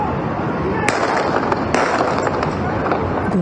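Sharp gunfire bursts from a night shootout in Tyumen crack out over a dense, noisy background, a few distinct loud shots spaced irregularly, with a continuous roar of ambient noise throughout.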